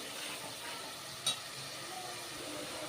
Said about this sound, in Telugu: ఇప్పుడు ఈ విధంగా ఉల్లిగడ్డ మనకు మంచిగా నూనెలో మంచిగా వేగాలండి